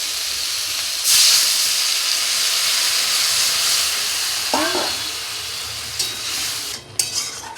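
Water poured into a hot pan of fried potato, eggplant and tender bottle gourd stems sets off a loud, sudden steamy hiss and sizzle that keeps going steadily, with a few stirring clinks near the end.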